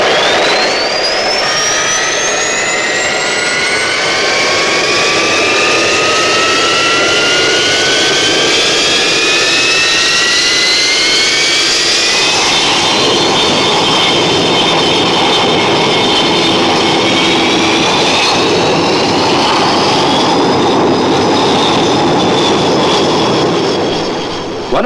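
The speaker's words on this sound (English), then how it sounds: "Stand by to start up all aircraft." Buccaneer S.1 jet aircraft engines starting up in 1966, a loud rising whine that climbs steadily in pitch over a heavy roar, several engines layered close by with no talk.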